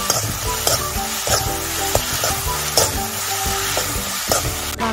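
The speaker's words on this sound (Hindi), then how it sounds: "अब इसे अच्छे से हम मिक्स करेंगे ताकि मसाला सारे पोहा में मिक्स हो जाए।" Poha being stirred with fried masala in a pan for Jain poha: steady sizzling frying with repeated scraping stir strokes at a regular rhythm, close and clear, no talking.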